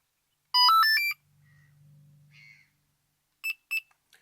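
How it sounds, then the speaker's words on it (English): A Delkim v2 carp fishing bite alarm gives a fast warbling tone, then a low hum, then two short sharp beeps close together, followed by a faint click. "wait for the alarm to beep 2 times, which will mean you're in menu 2"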